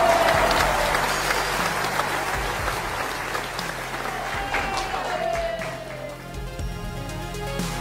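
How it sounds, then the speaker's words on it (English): An audience at a fashion show applauds in a sustained, dense round of clapping that starts loud and slowly tapers off over several seconds, with no voices on top. "Let's give Tracy another round of applause."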